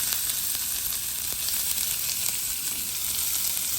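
Mustard seeds, cumin and onion frying in hot oil for Jaffna-style kundu dosai, a dense continuous hiss and crackle, close and steady, with no voices.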